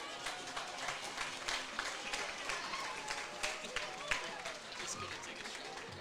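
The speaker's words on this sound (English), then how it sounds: "Let's give them a round of applause." A homecoming crowd in a high school stadium applauds Springtown alumni, a steady spread of clapping from a distant audience under outdoor murmur.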